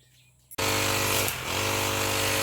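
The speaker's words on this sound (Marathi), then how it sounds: "ह्या बागेत ना मशीन चालू केल्याने ना ह्या असं सगळा गवात वाढलेला असतं ह्याची साफसफाई केली" A grass-clearing machine starts up in a mango orchard in Devgad, Konkan, cutting overgrown grass; after a quiet moment its motor roars in loud and close, holding a steady, dense buzzing drone with a brief dip.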